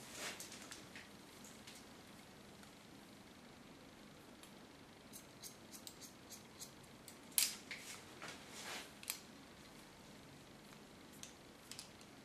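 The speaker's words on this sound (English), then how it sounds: "You can hear the snapping of the hair and the scissor." Scissors snip through hair during a haircut, a series of crisp, close cutting clicks scattered irregularly over a quiet room background, with one sharper, louder snip midway.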